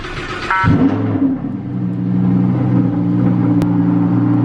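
Car engine firing up, a sharp crank that catches into a deep steady idle rumble, close and loud.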